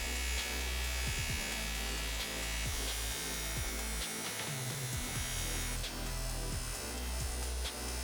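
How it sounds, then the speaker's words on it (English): Buffing machine spinning a loose wheel charged with white rouge compound while polishing scratches out of motorcycle fork tubes, a loud, steady electric whir and hum that runs throughout with small shifts in pitch and load, and no talking. "I'm gonna buff all these scratches out over on the buffing machine"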